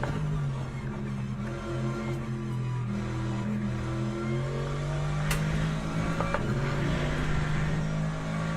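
Race car engine of the new AMG in Le Mans Ultimate, a steady droning harmonic tone holding and shifting slightly in pitch as the car runs, loud and continuous with no talk.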